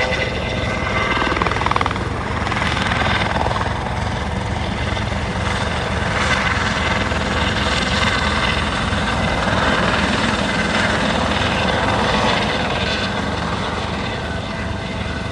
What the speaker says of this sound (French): l'hélico se met à démarrer, donc il y a moyen qu'il décolle.